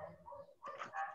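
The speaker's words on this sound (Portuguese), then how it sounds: "Se for a minha, se for o cachorro latindo, é minha" A dog barks in short, harsh bursts near the end, faint and a little distant, heard over a home microphone during a fifth-grade online class on Zoom, with quieter room noise before the barks.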